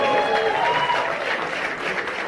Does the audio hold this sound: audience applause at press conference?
yes